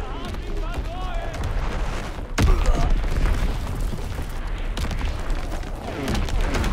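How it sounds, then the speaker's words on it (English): An incoming enemy artillery explosion in the video game Call of Duty WWII, a single sharp boom partway through, over constant battle noise and talk. "Incoming enemy artillery."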